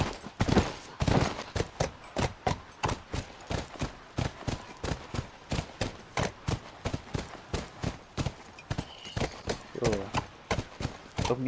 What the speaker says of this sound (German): Ich werde jetzt doch erstmal mit dem Pferd rein.